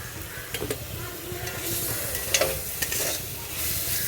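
Kakrol and potato with a little shrimp frying in a small amount of oil, stirred with a spatula, giving steady close sizzling and occasional scraping knocks against the pan, with no talking.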